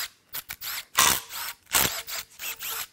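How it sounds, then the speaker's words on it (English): Ratchet wrench loosening the big oil pan bolts on a locked-up Ford 351W 5.8L V8 during teardown, several quick bursts of close, sharp clicking separated by short pauses. "Let's get the big bolts out first."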